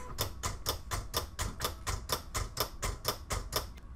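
A vinyl cutting machine making a test cut on heat-transfer vinyl, a rapid regular ticking chatter of blade strokes, about four per second, loud and close with nothing else over it.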